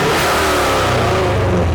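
A 2005 Pontiac GTO engine revs hard up close, one loud, rising roar that fills the whole short stretch.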